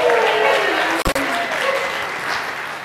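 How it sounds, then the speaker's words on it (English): A festival crowd claps for a magician's stage appearance at Moisture Fest, sustained and fairly close, with one brief dip partway through and a voice faintly under it. "All right, go ahead, applaud."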